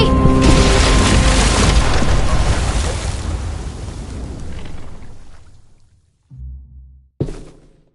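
A bomb blast in The Walking Dead video game erupts loudly at the start and rolls into a long, fading rumble, dying away to near silence before a couple of short, dull thuds follow near the end.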